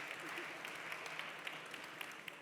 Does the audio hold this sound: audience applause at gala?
yes